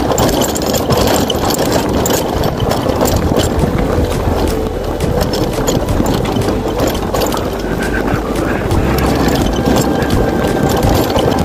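Motorcycle engine running at low revs on a mountain ride, a loud, steady mid-pitched drone throughout with no voices over it.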